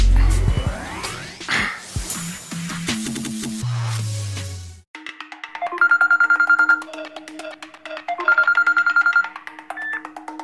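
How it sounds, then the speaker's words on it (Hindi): A telephone ringtone rings in two repeating melodic bursts, clear and close, following a loud musical sting with no speech, in a comedy web series. "समीर को फोन लगाता हूं।"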